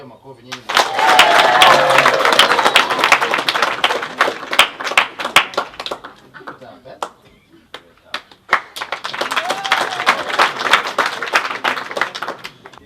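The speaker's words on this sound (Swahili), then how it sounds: "Mwezi mpigia makofi nyinyi" An audience at a school prize-giving claps in two long rounds of applause, a short lull between them and a voice speaking over the clapping.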